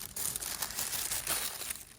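Multicoloured wrapping paper crinkling and rustling in close, continuous handling for a couple of seconds, with bright crackles and no talking.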